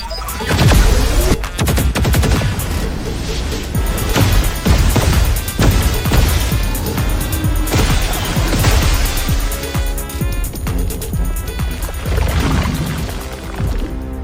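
Weapons opening fire in a sci-fi battle: dense rapid fusillade of gunshots and crashing blasts rolling continuously for about fourteen seconds, loud and close, with no talking.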